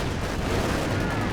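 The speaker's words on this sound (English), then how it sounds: "Priest coming in for another barrage" Priest self-propelled artillery barrage in the video game Company of Heroes 2, a dense, continuous roar of blasts and rumble that stays loud and steady throughout with no pauses.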